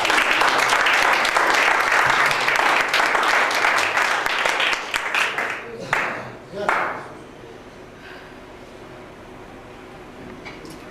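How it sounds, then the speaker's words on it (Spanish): Church congregation applauding the Lord, loud sustained clapping with some cheering that tapers off around the middle, followed by a few scattered claps and quieter room sound. "Denle un aplauso al Señor."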